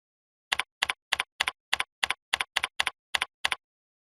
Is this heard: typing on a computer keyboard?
yes